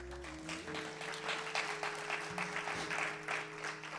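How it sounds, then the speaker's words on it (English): Audience clapping at a book signing event, a scattered rhythmic patter of hands at moderate level, with steady tonal hum and background sounds running beneath. "Y'all can clap right there."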